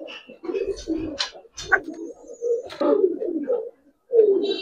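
Giribaz pigeons, an old breed kept in Old Dhaka, coo in soft repeated throaty phrases, close by, with short pauses between bursts and a faint chirp or two.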